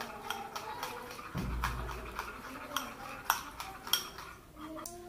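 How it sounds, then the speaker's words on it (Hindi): Thin hair mask paste being stirred in a bowl, with light repeated scraping and clinking of a utensil against the bowl at a steady, close-up pace. "अब इसे हम अच्छी तरह से मिक्स कर लेते हैं।"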